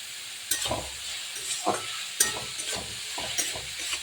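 Tomato with turmeric and salt stirred in a frying pan, soft sizzling under a few scraping strokes of a spatula in uneven bursts, close and fairly quiet.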